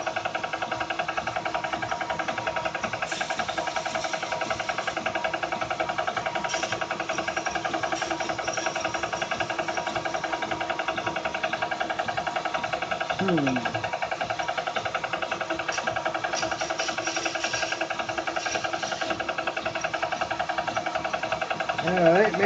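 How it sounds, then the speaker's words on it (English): A stone wash tumbler loaded with knives, just fitted with a new belt, runs steadily in a workshop, giving a constant mechanical churning hum that lasts throughout at an even level. "We are ready to throw back in the stone wash."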